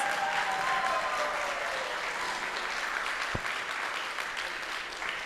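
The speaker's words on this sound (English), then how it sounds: "Let us give them a big round of applause." Audience applause for young robotics champions at a university conference, a steady, dense wash of clapping that holds for the full stretch with no voices over it.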